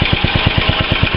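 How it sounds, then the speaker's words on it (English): A Honda G65 6.8HP engine idles on a Mobilco slasher, its exhaust thumping in a steady, even beat of about nine pulses a second, close and loud over a constant mechanical hum. "It's just ticking over on idle."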